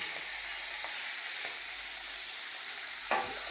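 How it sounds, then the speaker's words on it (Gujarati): Chili-garlic paste sizzling steadily in hot oil with cloves over a low flame, a continuous close frying hiss with a few soft stirring scrapes and no talk. "તો મરચાં લસણની પેસ્ટ નાખી દઈએ"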